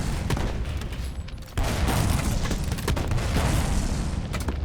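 Blasts from the player's own D cannon weapon in the Madness: Project Nexus video game, dense booming explosions and gunfire filling the whole stretch with a sharp jump in loudness midway.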